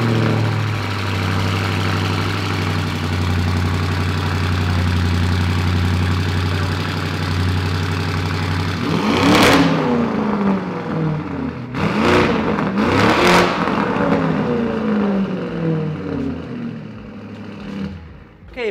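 A loud-exhaust car from a collector's garage rumbles at a steady idle, then the engine is blipped in sharp revs, one around the middle and two close together shortly after, each dropping back to idle.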